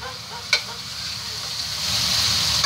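Vegetables sizzle and fry steadily in a pan for a short stretch, with one sharp clink of a utensil early on as the hiss builds slightly louder toward the end.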